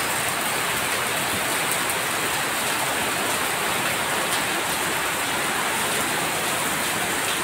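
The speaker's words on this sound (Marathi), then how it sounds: "आहे बघा किती मोठ्या मोठ्या धारा पडतात आहेत. बाप रे, हे बघा काय भरलाय पाऊस." Heavy monsoon rain pours down steadily in Konkan, a dense, loud hiss of water drumming on surfaces with no pauses.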